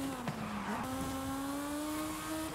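A tiny Peel P50 car drifts in a racing video game on a mountain course, its engine droning under a sustained, rising tire squeal with a brief skid, loud and close throughout.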